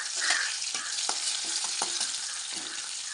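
Curry leaves frying in hot coconut oil for a Kerala chundakka thoran, giving a steady bright sizzle with a few sharper crackles and stirring sounds, close and continuous with no talking.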